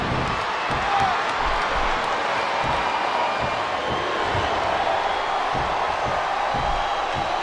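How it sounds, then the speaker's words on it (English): A wrestling arena crowd in the video game Smackdown vs RAW 2007 keeps up a steady roar and cheer throughout, dense and unbroken, with faint thuds beneath it. "I think these superstars are getting some feedback from the crowd, JR."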